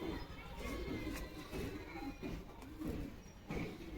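Giribaz pigeons cooing nearby in low, repeated throaty pulses, with a voice and faint background activity alongside.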